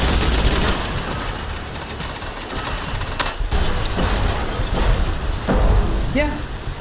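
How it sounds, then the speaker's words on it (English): A blast from the video game STRAFE bursts amid dense, continuous gunfire and action noise, loud and busy throughout with a brief sharp crack near the middle. "pretty nice explosion"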